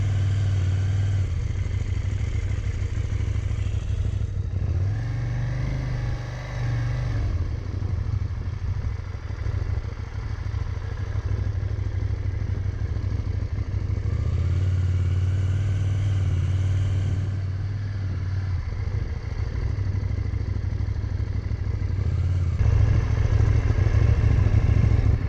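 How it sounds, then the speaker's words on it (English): Motorcycle ridden around a parking lot in stop-and-go fashion, its engine rumbling continuously, idling and then revving as it pulls off and slows, fairly close and loud. "I decided to work in my stop and goes in the parking lot to get a good feeling for the bike before hitting the road"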